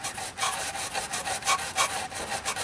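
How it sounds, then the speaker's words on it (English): A stiff brush scrubs rusty exhaust retaining nuts under a 2008 Subaru Outback, in quick back-and-forth rasping strokes that repeat steadily and sound close, with no voices. "we're going to take our brush and now start prepping these"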